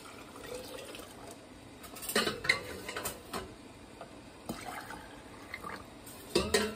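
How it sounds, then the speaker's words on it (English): Hot water is poured into jars of beans sitting in a home canner, heard as faint trickling and splashing with small clinks of glass, quiet and close, with no talk. "I'm going to put this hot water that's left in there."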